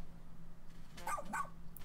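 A pup in the Pikmin 4 video game gives a short pair of close, high yips and barks against a quiet background.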